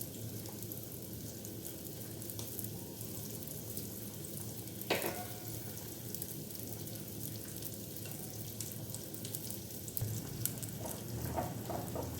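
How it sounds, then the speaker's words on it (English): Fish frying in a pan over a low flame, a steady faint sizzle with soft crackles and a couple of brief clinks, no voices. "I like to fry fish on low flame."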